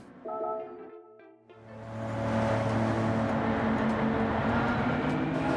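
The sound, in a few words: Mitsubishi GTO engine in Gran Turismo 7 video game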